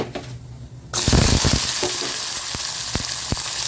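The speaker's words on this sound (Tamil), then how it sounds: "இப்போ வந்து நம்ம வெங்காயம் போட்டலாம்" Onions hitting hot oil in a pan for a black spicy chutney burst into loud, steady sizzling after a quiet start, with a few scraping knocks of a spoon against the pan.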